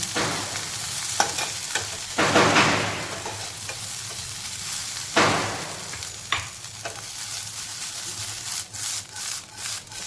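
Okra stir-fry with coriander powder stirred in a pan, with scraping strokes over a soft sizzle, a couple of longer sweeping scrapes and quick clicks at the end.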